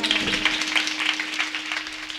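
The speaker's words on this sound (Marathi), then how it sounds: "आमच्या भक्तिताईंसाठी मोठ्याने टाळ्या वाजवा." Audience clapping for a woman kirtan performer at a devotional kirtan gathering, a steady dense patter of many hands sustained throughout, moderately loud and fairly close, with a faint steady hum underneath.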